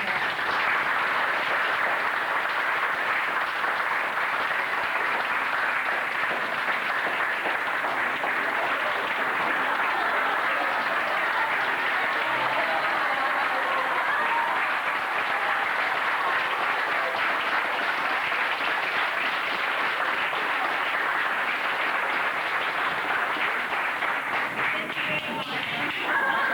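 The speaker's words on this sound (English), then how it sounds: "please give him a big applause if you want to." Seminar audience applause during an English seminar on Tokashiki Island in 1997, a steady, even wash of clapping from a roomful of people that holds for almost half a minute at moderate distance.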